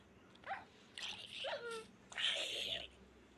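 A dog in a survival video game gives several short, rising whimpers and whines in quick succession, heard close and fairly quiet against a soft background.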